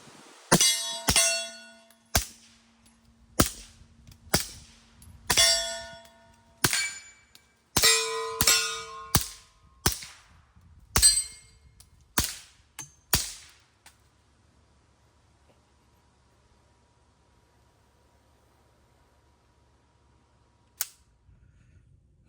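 A suppressed Tisas Night Stalker double-stack 1911 pistol firing Remington subsonic ammunition, a dozen or so sharp cracking shots at an uneven pace over about thirteen seconds, then near silence with one last shot.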